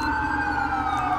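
A wailing emergency siren from an ambulance in a video game roleplay holds a steady, loud, continuous tone throughout the short stretch with no talk.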